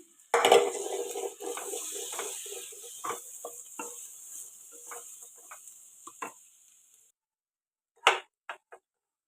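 Chopped tomato and green chili fry in a pan while being stirred, with a steady faint sizzle and scattered scraping clicks of a spoon, then the sizzle stops and a few sharp clinks sound near the end.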